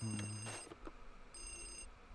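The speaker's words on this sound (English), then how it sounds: "So now we can answer this phone." A phone rings in the Luigi's Mansion game, two bursts of a thin electronic trilling bell separated by a short gap, soft and set against a low background hum.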